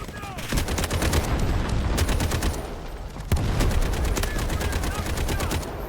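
Rapid, close automatic gunfire from Delta Force Hawk Ops rattles in dense bursts with a short break near the middle. The shooting is loud and fills the clip throughout.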